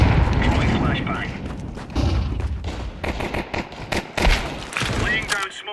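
Gunfire and grenade blasts from Counter-Strike 2 come in rapid bursts and heavy booms, loud and close, with game voice callouts layered over the action.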